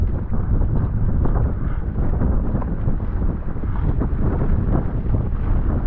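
Strong wind roars across the microphone while paddling a stable boat downwind over big swells, a loud, gusty, low rumbling buffet that never lets up for six seconds, with no voices.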